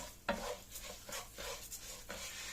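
A spoon stirs sauce into rice in a pan of fish-style restaurant rice, producing faint scraping strokes at a steady rhythm over a soft sizzle, close and quiet with no voices.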